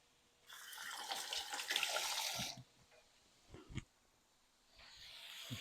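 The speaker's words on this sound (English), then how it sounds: "Let me rinse my hands off." Running tap water rinses hands at a kitchen sink while cabbage spaghetti cooks. A loud, close rush of water for about two seconds, then a few small splashes and clinks, and a softer stream starting again at the end.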